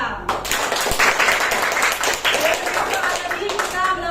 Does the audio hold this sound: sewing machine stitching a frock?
no